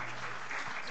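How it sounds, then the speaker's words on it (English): Brief applause from the audience at an evening talk on arbitral institutions in Asia, a dense steady wash of clapping heard at a moderate distance with no break in it. "Can you please join me with a round of applause and appreciation to Dato' Sundra"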